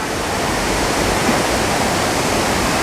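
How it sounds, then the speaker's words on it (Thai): A loud, continuous roar of Phlio Waterfall in Thailand, a thick steady rush of falling water with no other sounds. "อันนี้คือน่าจะจุดที่พีคของน้ำตกพิ้วแล้วล่ะค่ะ"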